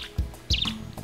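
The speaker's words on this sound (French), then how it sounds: "ou le sifflement d'un oiseau" A bird's high whistling chirps in a countryside scene, two short bright calls standing out over low background rumble and soft thumps.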